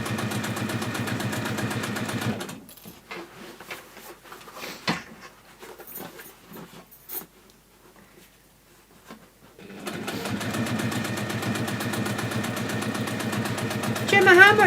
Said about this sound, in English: all I have to then do is just top stitch around